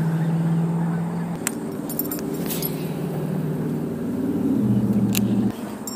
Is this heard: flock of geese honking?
yes